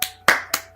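Three short sharp claps or snaps from a TV episode of a school scene: one at the start, a louder one near the middle, another late, each a crisp burst with a brief decay, with no voices.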